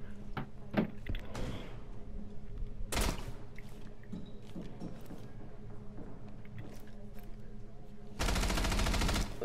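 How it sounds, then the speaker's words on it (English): Rapid gunfire in the tactical shooter game Rainbow Six, intermittent loud bursts with a sustained automatic volley at the end, over a quiet game background. "What are you shooting at?"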